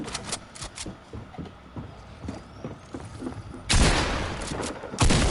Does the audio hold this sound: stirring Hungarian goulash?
no